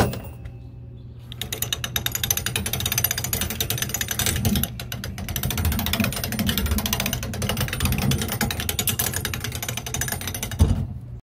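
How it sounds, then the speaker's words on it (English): Hand-cranked penny smasher pressing a coin in a Gatlinburg mall, a dense steady ratcheting clatter of gears lasting about ten seconds after a brief quiet start, close and loud with no talk. "I see a penny smasher. I'm gonna do it."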